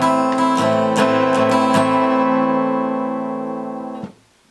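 A-minor chord strummed on an acoustic guitar, played solo as an easy beginner chord, a few quick strums at the start then ringing out steadily for about four seconds before being muted abruptly.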